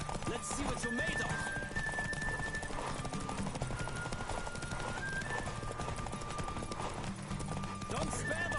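A horse gallops hard in The Witcher 3: dense, rhythmic hoofbeats drum steadily from start to finish, accompanied by background voices and a faint whinny.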